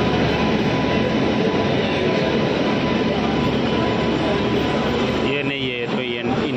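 Passenger train pulling into a railway station on the Ambala Cantt to Delhi route, a loud continuous rumble of cars and wheels filling the scene, with a horn-like tonal sound rising near the end.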